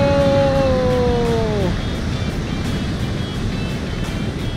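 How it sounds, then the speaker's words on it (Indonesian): Steady roar of surf crashing onto a rocky shore, loud and continuous, with a brief tonal whine fading out early on. "Gila ombaknya bro."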